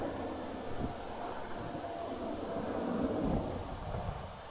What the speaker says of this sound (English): Air Bridge Cargo, Boeing 747.